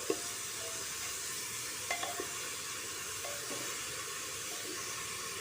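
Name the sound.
greens stirred in a frying pan with popped mustard seeds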